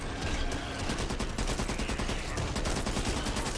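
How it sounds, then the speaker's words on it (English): A shotgun fires in an online multiplayer video game, with dense, rapid blasts and clatter overlapping in loud bursts throughout. "Oh, shotgun is so easy to play."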